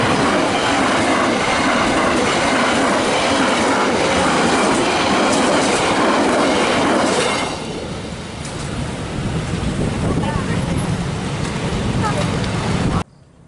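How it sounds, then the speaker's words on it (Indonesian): An additional Kuto Jaya long-distance passenger train speeds past from the east, a loud, close roar of wheels and rail clatter that holds steady for about seven seconds, then eases into a quieter rumble and clicking before cutting off. "Kereta Kuto Jaya tambahan melesat dari timur di jalur"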